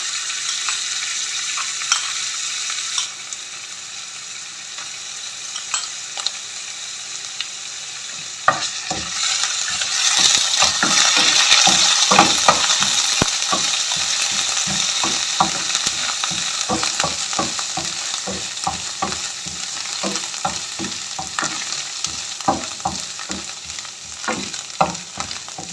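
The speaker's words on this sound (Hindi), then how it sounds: "अदरक लहसुन को 1 मिनट के लिए मैंने फ्राई कर लिया है।" Ginger garlic paste sizzles and spatters in hot oil for a chicken jalfrezi, starting quieter then turning into a loud, steady fry with frequent crackles and occasional stirring clinks.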